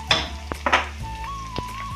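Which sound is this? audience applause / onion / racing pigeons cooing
onion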